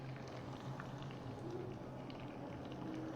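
A pot of water with spaghetti simmers on the stove, giving a continuous soft bubbling and gentle patter with a low steady hum underneath.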